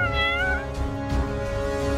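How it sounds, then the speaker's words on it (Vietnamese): A cat meows loudly and close by in a single drawn-out, rising and wavering call that lasts about two seconds and stands alone without talk. "Con mèo!"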